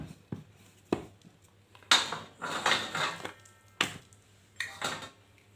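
A rolling pin works wheat flour and jaggery dough sprinkled with poppy seeds, giving soft knocks and rolling scrapes that come in an uneven rhythm against a quiet kitchen hum.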